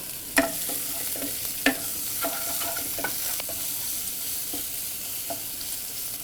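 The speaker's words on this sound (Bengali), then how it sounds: "এক টেবিল স্পুন পরিমাণ আদা কুচি ছিল সেটা দিয়ে দিব একটু ব্রাউন কালারের জন্য অপেক্ষা করব আমরা" A tablespoon of chopped ginger fries in a pan with a steady, fairly quiet sizzle, broken by a few soft clicks and taps of stirring, close up and with no voices.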